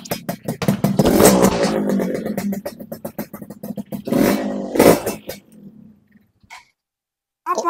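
Motorcycle exhaust revving in loud repeated bursts with a rough, sputtering rhythm, close by and dominating most of the clip before fading out near the end.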